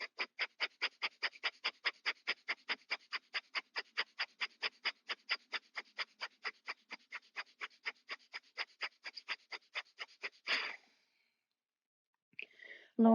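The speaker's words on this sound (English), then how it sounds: "We'll do Bastrika. Breath of fire. Breathing in and out quickly." Bhastrika breath of fire during a yoga session: about forty rapid, evenly spaced breaths pumped in and out through the nose, close and loud, ending in a longer exhale, then a brief pause and a faint rustle.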